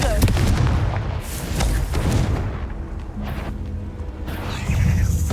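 Fiery Confringo blasting spells go off in Hogwarts Legacy inside a spider-filled cave maze, a string of booming impacts with crackling bursts layered over ongoing rumble and game noise.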